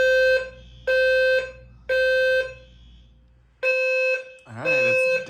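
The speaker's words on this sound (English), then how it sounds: "it's day 2 of being waken up by the fire alarm again" A hotel fire alarm sounds in loud, repeating electronic tone bursts separated by brief pauses, with a voice heard over the final burst.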